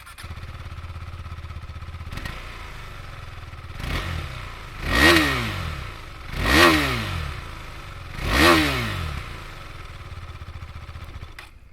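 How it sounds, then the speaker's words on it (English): Single-cylinder engine of a KTM 390 Adventure motorcycle idles with a thumping putter, then is revved three times in quick rising-and-falling blips, close and fairly loud. "we might as well just take a quick look at the sound that this bike makes"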